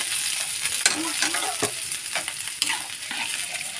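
Adobo sauce for string beans with sotanghon bubbles and sizzles steadily in a pan, with a few sharp stirring scrapes and clinks standing out close and loud over the constant frying hiss, and no talk.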